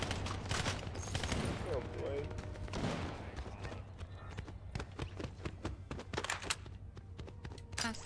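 Gunfire in the video game Fortnite crackles in rapid, dense bursts with sharp repeated shots, loud and close, mixed with other game effects while a player talks over it.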